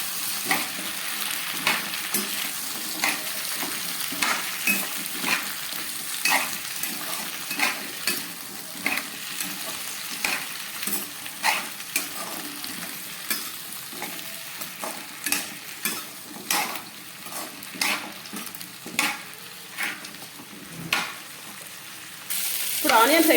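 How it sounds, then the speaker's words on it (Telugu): Chopped onions sizzle in hot oil for a tomato chutney tempering, a steady close crackle broken by regular scraping stirs of a spoon against the pan. "దీనిలో ఆనియన్స్ అయితే వేసుకోవాలి. వేసుకొని వీటిని కూడా గోల్డెన్ బ్రౌన్ కలర్ వచ్చే వరకు బాగా ఫ్రై చేసుకోవాలి."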